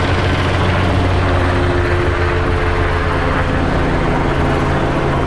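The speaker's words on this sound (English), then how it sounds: "We have an airship overhead." A police helicopter flies overhead during a shooting call, its loud, steady rotor and engine drone holding constant throughout.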